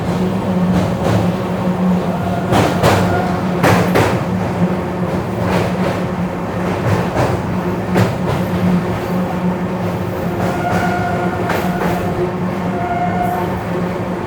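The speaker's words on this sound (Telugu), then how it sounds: "మనకైతే కొద్దిసేపట్లో ది రత్నాచల్ ఎక్స్ప్రెస్ వచ్చేసి క్రాస్ చేయబోతుందండి" The Ratnachal Express crosses while the Simhadri Express, train 17239, runs alongside, making a loud continuous rail rumble with repeated rhythmic clatter of wheels over track joints.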